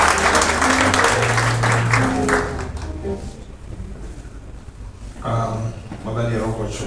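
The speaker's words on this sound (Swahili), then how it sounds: "Tumuongezee makofi jameni." A church crowd claps for a bishop, giving a dense burst of applause that fades in the middle and swells again toward the end, with a voice speaking over it.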